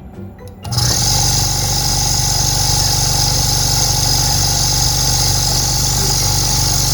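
An industrial vacuum pump on 220 V 60 Hz power, with a vacuum gauge on the suction side, kicks on after a short quiet start. It then settles into a loud, steady mechanical hum with a constant high whine and no talk over it.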